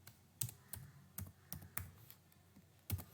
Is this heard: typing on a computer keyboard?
yes